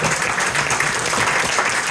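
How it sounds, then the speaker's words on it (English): An audience at a live stage hypnosis show applauding, a brief, loud and dense wash of clapping with no pauses across two seconds. "give these guys a massive round of applause for being part of the show this evening"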